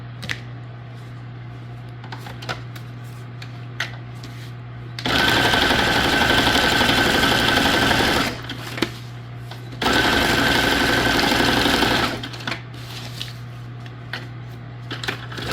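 A sewing machine stitches junk journal tags in two loud, steady runs of rapid mechanical whirring, each a few seconds long, separated by quieter stretches with light handling clicks and a low background hum.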